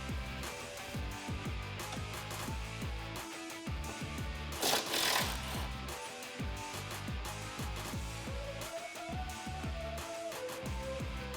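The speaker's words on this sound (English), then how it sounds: "Next, we're going to undo the brake line bracket with a 13 millimeter socket." A 13 mm socket wrench ratchets loose the brake line bracket bolt on a 2015-2018 Mustang GT, giving continuous rapid mechanical clicking up close for about eleven seconds, with a brief louder burst partway through.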